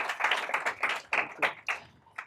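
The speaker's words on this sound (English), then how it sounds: "I want to give us a round of applause." Sparse clapping from the audience after a science-and-society panel: a handful of distinct, uneven claps close by, with no talking underneath.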